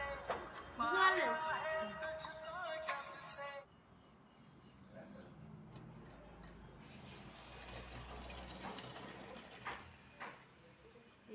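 A sewing machine stitching fabric runs as a low, steady mechanical whir with faint rhythmic pulsing, heard after a short stretch of someone talking.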